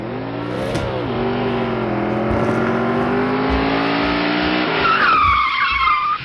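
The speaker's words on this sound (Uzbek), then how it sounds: "Aka, nahotki shu mashinani ovozini o'chirishda iloji yo'q?" A car engine roars loudly and steadily close by, its revving pitch shifting throughout, and a sharp tire squeal rises over it near the end.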